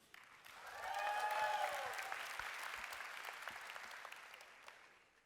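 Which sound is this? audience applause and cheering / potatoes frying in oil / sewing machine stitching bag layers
audience applause and cheering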